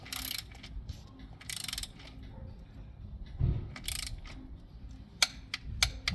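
A ratchet fitted with an 8 mm socket and a short extension tightens bolts during variator assembly on a Yamaha TMAX 560 scooter. It gives a few bursts of quick metallic clicking along with scattered tool knocks, fairly close, with no talk.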